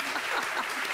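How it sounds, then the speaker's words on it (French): A studio audience bursts into a short, lively round of clapping that fills the room for about a second. "Double applaudissement."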